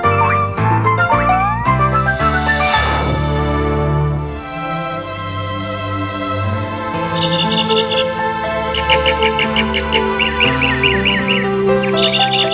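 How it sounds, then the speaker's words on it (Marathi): Bright, repeated bird chirps and tweets in a forest setting rise in the second half, layered over a melodic musical score with sustained tones. "पक्ष्यांचा मधुर किलबिलाट वनात सुरू झाला"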